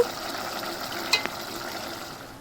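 Masala paste is stirred into a simmering village-style munnuru fish curry, a soft steady bubbling sizzle close by with a couple of brief ladle scrapes, no voices.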